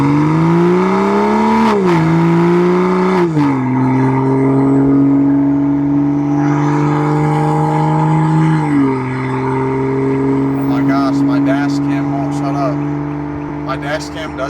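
A BMW M340i with the B58 engine pulls away under load, its steady drone rising in pitch in a few stepped surges as it upshifts, loud and close from inside the cabin, with a brief ticking chime near the end.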